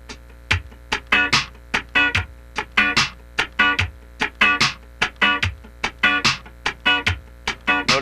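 Funk rhythm guitar played with muted sixteenth-note strumming, accenting the upstroke on the fourth sixteenth, sharp percussive chops repeating in a tight, even groove, close and dry with no talking.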